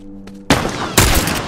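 Mounted turret gunfire in The Last of Us, two heavy bursts of rapid shots hitting loud and close after a quiet moment, with a booming tail.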